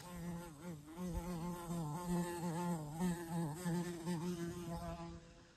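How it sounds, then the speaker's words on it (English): Faint, wavering buzz of male digger bees drifting close by in Bears Ears National Monument, rising and falling in pitch as they circle, with no voices. "I started seeing some male digger bees flying around."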